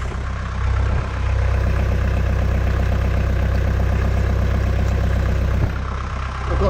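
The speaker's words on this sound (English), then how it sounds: "I'm running fresh water through the engine just to flush out all the pipes and the intercoolers" A boat's inboard engine idles steadily at close range while being flushed with fresh water from a hose, a continuous low chugging throb with no voices.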